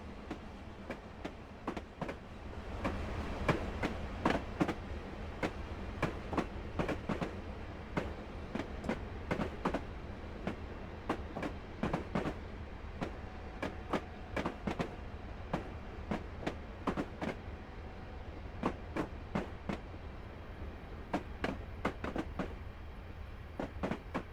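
Train running on the Weardale and Teesdale railway network, passing over the connecting branch from Bridgehouse Junction: a steady low rumble with rapid, rhythmic clickety-clack wheel beats on rail joints throughout.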